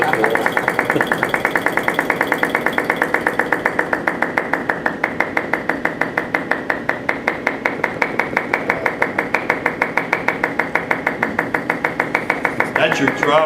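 A small model flame-licker engine with a flywheel and flame-fed throttle runs fast and steadily, giving a close, rapid, even ticking and chuffing rhythm throughout, with faint voices now and then.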